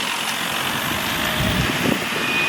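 A Volkswagen Golf engine runs steadily at idle, heard from outside the car as a close, continuous rumble and hum with no voices.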